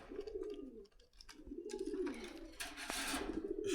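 Caged racing pigeons at a bustling bird market coo in low repeated bursts, near and moderately quiet, with market clatter and rustling around them.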